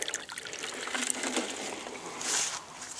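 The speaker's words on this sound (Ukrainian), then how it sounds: "Тут вода вже не побіжить, але я на всяк випадок налію." Water is poured from a container into a drinking bowl for domestic animals on a cold winter day, a soft, fairly quiet trickling splash that runs for a few seconds with no one talking.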